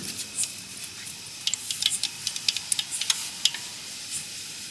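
Cumin and mustard seeds sizzle in plenty of hot oil for a tempering, with a steady hiss and a quick run of sharp crackles and pops.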